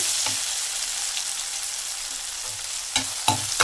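Turmeric powder being stirred into a sizzling tempering of tomato, onion and capsicum in a pan, a steady close frying hiss with a few sharp scraping clicks of the spoon near the end.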